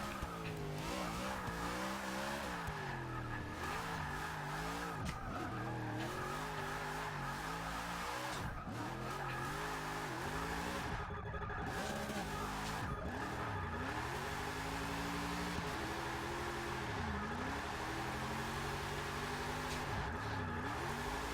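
AWD Chevrolet Bel Air drift build in Forza 6, engine rising and falling steadily through gear changes with tyres squealing and skidding almost continuously, loud and close throughout.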